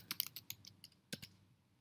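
A quick burst of keystrokes on a computer keyboard, a dozen or so light, close clicks in an uneven rhythm, quiet with no talking.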